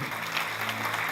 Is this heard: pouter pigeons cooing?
no